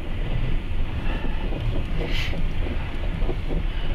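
A tractor engine drones steadily as it tows a vehicle outdoors, with gusts of wind buffeting the microphone. The rumble is loud, close and continuous.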